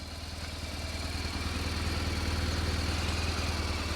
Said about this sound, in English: And the engine does sound so very, very sweet.